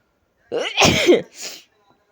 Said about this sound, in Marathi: मध्ये थोडं शिंका येत होत्या सर्दी पण झालेली होती